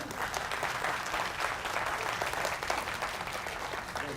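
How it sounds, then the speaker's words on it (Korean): A seated audience applauds after a political party's youth training lecture, a steady, even wash of many hands clapping at moderate level, continuous throughout. "다시 한번 박수 부탁드리겠습니다"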